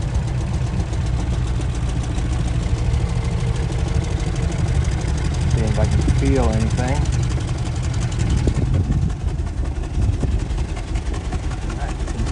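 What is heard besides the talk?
1967 Lincoln idling, sound of the finished exhaust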